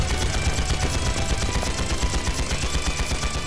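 Loud, dense video game gunfire in Trails into Reverie: rapid automatic bursts blend into a continuous roar of shots that runs unbroken from start to finish.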